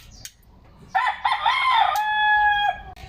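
A fighting rooster crows once in a backyard, a loud, near, drawn-out crow that holds its pitch before breaking off, with a faint rustle before it and quiet around it.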